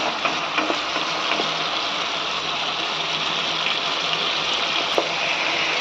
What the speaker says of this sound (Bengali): ভালো করে দেড়ে ছেড়ে ফ্রাই করে নিতে হবে বেশি কড়া করে ভাজবো না চিংড়িটাকে